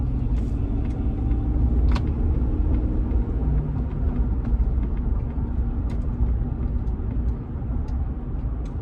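A 2014 Chevrolet Silverado accelerates on the road with a steady low engine and road rumble inside the cab, checked for transmission shudder. A few faint clicks sit over the drone, and nobody speaks.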